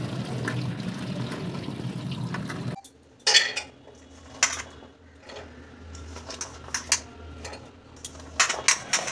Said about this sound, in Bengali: এরপর ভালো করে জল দিয়ে ধুয়ে নিয়ে একে আমরা সিদ্ধ করতে বসাবো।